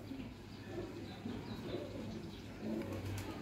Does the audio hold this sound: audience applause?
no